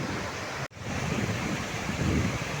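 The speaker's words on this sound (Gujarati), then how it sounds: "પથ્થરો બોલ્ડરોની વચ્ચે ઉપરથી ગ્લેશિયરમાંથી પાણી વહે છે" Glacial river water rushes over boulders on a Himalayan trekking route in Uttarkashi: a loud, continuous broadband roar that cuts out for an instant early on, then resumes.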